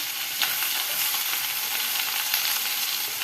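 Sliced onion and green chillies sizzle steadily in a hot pan, a continuous close frying hiss with small crackles and stirring scrapes, no voices.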